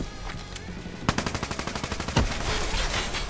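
Gunfire in Call of Duty: Black Ops 3, a sharp shot followed by a rapid automatic burst of evenly spaced loud rounds, then a heavier blast and continued shooting, close and dense.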